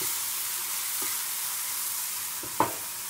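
Red chili powder and spices sizzle in a frying pan for cauliflower bhurji, a steady close hiss with a few soft stirring scrapes and one sharp utensil knock near the end.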